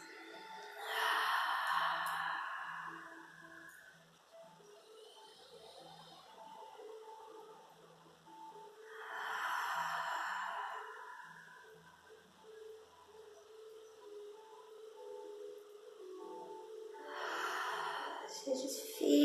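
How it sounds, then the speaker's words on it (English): Slow, deep breaths drawn in through the nose and released out the mouth during a guided meditation, three long airy swells spaced several seconds apart, soft and close with quiet talk between them. "take some nice deep breaths in through the nose. And we're going to exhale out the mouth."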